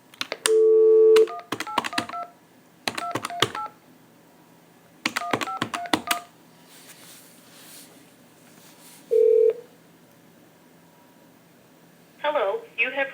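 A telephone keypad dials a prison number, with clusters of crisp two-tone touch-tone beeps in quick bursts separated by short pauses, a longer steady tone at the start and another later, then a brief buzzy ring near the end.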